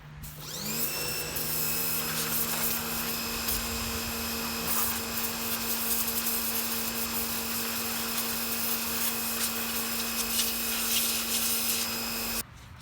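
A Portland 1750 PSI pressure washer runs steadily at close range, a loud continuous motor-and-pump drone with a high whine that starts up and holds throughout before cutting off at the end; no talking.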